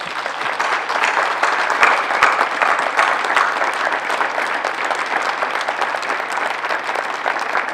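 Sustained applause from an audience at a municipal council investiture session, honouring the town's municipal staff; dense, steady clapping fills the whole stretch without a break.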